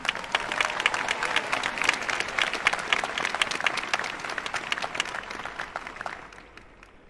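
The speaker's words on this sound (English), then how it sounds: "Let's give them a round of applause." A commencement crowd applauds graduating second lieutenants with a steady wash of many hands clapping at moderate distance, holding for several seconds before tapering off at the end.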